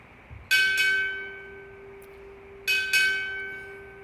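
At a Navy chief petty officer pinning ceremony at Naval Support Activity Portsmouth, a ship's bell rings in two quick pairs of clear, sustained strikes, each pair's ringing tone lingering and fading before the next.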